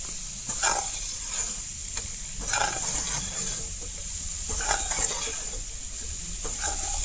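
Grated radish sweet cooks in a pan under a steady soft hiss, with gentle spoon scrapes returning slowly about every two seconds.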